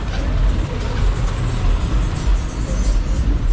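Road traffic where Moi Avenue meets Kenyatta Avenue in Nairobi, with loud, close car and bus engines and a constant roadway rumble that swells and dips slightly as vehicles pass.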